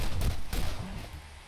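Gunfire in the video game Borderlands: a couple of heavy, booming shots land close together near the start, followed by a decaying rumble.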